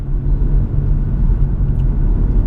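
A BMW M140i hums with a loud, steady low engine and road rumble from inside the cabin while driving, continuous and even with no voices.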